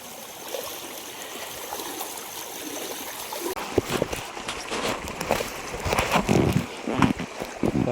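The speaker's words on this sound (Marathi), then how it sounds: "इकडे पर्या नदीला मी येतो इकडे असा इथे नदी आहे" A river flows steadily with a broad rushing wash, close and constant, growing busier with splashy trickles midway, along a Konkan riverside on a crab-hunting outing.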